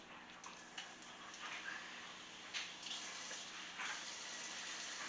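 About one and a half cups of water are poured into a casserole dish for a dump-and-bake meatball casserole, giving faint, close splashing gushes in a few short bursts.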